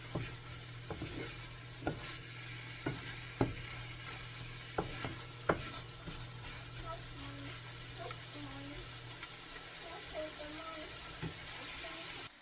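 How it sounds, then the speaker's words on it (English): Pumpkin and shrimp fry in a pan of hot oil with a steady low sizzle, broken by repeated sharp clicks and scrapes of a utensil against the pan at an uneven rhythm. "I wanted to fry a little bit more"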